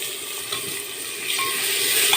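Potatoes fry in hot oil in a pan on a home kitchen stove, giving a steady, close sizzle with faint scraping as they are stirred, continuous and without talking.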